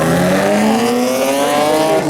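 Drag race cars, a BMW E46 and a Nissan 370Z, roar loudly at a spectator drag racing meet, their engines revving and climbing steadily in pitch as they launch and accelerate hard together over a couple of seconds.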